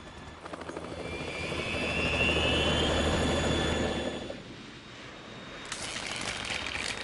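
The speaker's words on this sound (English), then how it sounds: "It's the Harrier." A Harrier jet roars in Metal Gear Solid 2, a loud sustained whining engine with a rising tone that swells, dips briefly and then returns.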